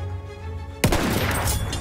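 Sudden loud burst of rapid gunfire in Battlefield 1, a sharp onset after a low rumbling lull, then a dense crackle of shots and echoing reports.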